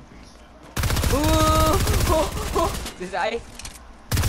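Rapid bursts of gunfire in a video game crackle loudly over several seconds, mixed with a voice talking over the shots and a short final burst at the end.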